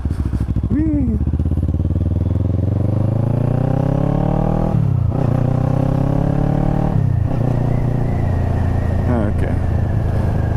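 A motorcycle fitted with a Delkevic SS70 slip-on exhaust accelerates through several gears, each loud rising engine note dropping at the shift, under heavy wind rush; a rider's voice is heard faintly.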